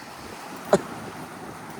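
Wind and surf murmur steadily at a small beach, a low, even outdoor wash with one soft knock about midway through and no talking.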